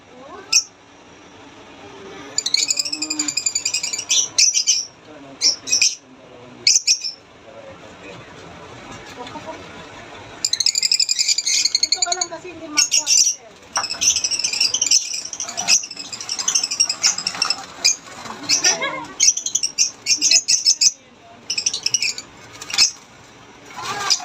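Lovebirds give bright, high-pitched chirps in quick bursts and chattering runs, close by, with short gaps of quiet between flurries.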